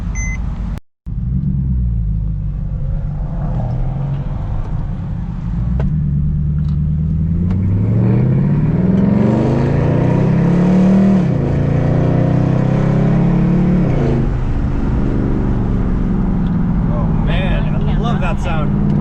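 A car engine at a street car meet in Foster City revs and rumbles loudly as the car pulls away, climbing in pitch over a steady road roar with voices in the background.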